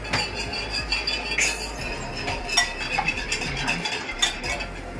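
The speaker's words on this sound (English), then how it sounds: "Now we beat our eggs." Eggs beaten in a bowl with a utensil, with rapid clinking and scraping strokes against the dish, close and fairly loud, and a few sharper taps in between.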